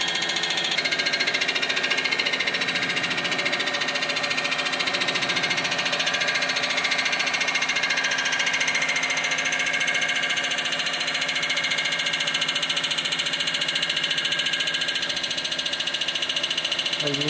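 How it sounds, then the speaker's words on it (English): A resurfacing machine spins a CBN cutter at about 850 RPM across a Honda B18 engine block, producing a loud, steady mechanical whine and hum with a fine buzzing vibration that continues unbroken throughout. "we're at about 850 RPM, 847 to be exact, and we're using a CBN cutter."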